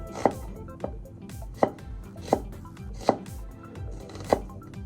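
A knife chops onion on a cutting board for sinigang na labanos, giving six or seven sharp, evenly spaced thuds, close and clear, with no talking.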